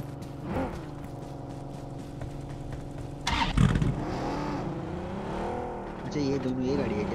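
A car engine in the video game PUBG on the Sanhok map hums steadily throughout, swelling into a louder rev around the midpoint, with players talking over it.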